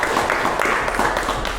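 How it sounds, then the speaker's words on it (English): An audience at an event gives a quick round of applause, with dense clapping from a crowd that stays steady for a moment and is heard close. "So if we could just have a quick round of applause."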